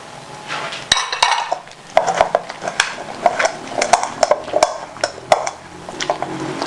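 Black soap being mixed with powders in a container, with repeated clinks and scrapes of a utensil against the vessel in an irregular stirring rhythm, close and fairly loud.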